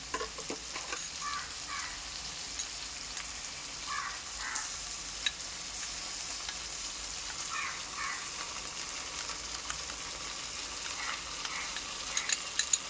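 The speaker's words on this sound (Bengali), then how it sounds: "আদা বাটাটা দিয়ে আমি খুব ভালো করে এটাকে কষবো" Ginger paste sizzles and is stirred in a pan with fried onions, giving a steady, soft frying hiss close by with occasional scraping stirs and no talking.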